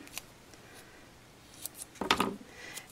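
Scissors snip through a small piece of washi tape at close range during a card-making session, a quiet crisp cut with a couple of faint handling sounds before it.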